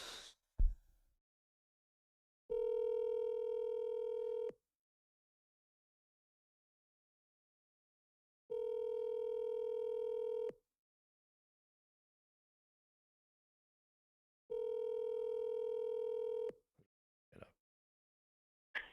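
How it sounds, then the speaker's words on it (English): A phone line ringing unanswered: three long, steady electronic ring tones about two seconds each, spaced by several seconds of silence, loud and close, after a brief click of the call being placed. "When I don't answer the phone, he calls me 5 times in a row."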